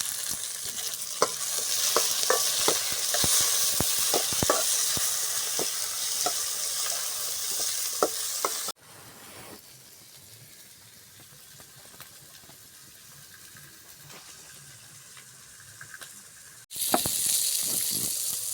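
Onion, tomato and green chilli frying in a pan for a goat spleen dish, a loud sizzle broken by scraping stirs, dropping to a quieter simmer midway before the sizzling returns, with no talk.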